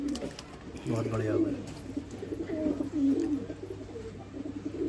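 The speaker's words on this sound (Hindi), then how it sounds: "साफ बने हुआ कबूतर है जी" Domestic pigeons of Rampuri and Pakistani breeds coo nearby in soft, repeated throaty phrases, with someone talking over them.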